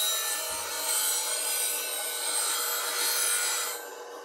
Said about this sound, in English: if you spend too much time grinding on one spot, you're going to grind the steel away in that